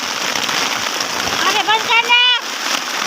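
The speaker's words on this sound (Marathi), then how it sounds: "भयानक पाऊस चालू आहे" Heavy rain falls on a soybean field in a loud, continuous hiss with splashing, close to the microphone, while a voice speaks over it briefly near the end.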